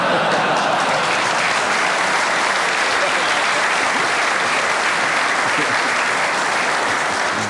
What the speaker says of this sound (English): Judging by that round of applause